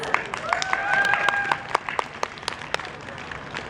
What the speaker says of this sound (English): I want everybody to give them a huge round of applause